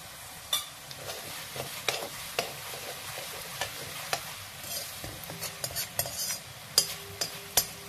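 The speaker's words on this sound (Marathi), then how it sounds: "आणि आता आपली चिवड्याची फोडणी तयार झालेली आहे." A spiced chivda tempering with asafoetida and turmeric sizzles softly in a very hot kadhai, and a spoon stirs and scrapes against the pan in repeated taps throughout.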